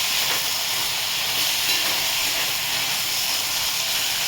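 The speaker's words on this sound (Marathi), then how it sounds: "थोडासा फास्ट गॅस करून परतून घ्यायची आहे।" Dill greens stir-frying in a pan over a high gas flame give off a loud, steady, unbroken hiss, with no voices.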